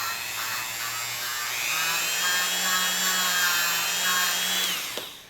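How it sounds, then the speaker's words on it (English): Wire brush scrubbing the metal wiper of a potentiometer from a LinnDrum drum machine under repair, producing a steady, fairly loud high-pitched whirring hiss, like a small rotary tool, that runs for about five seconds and stops abruptly. "I'll take the wire brush and give it a polishing"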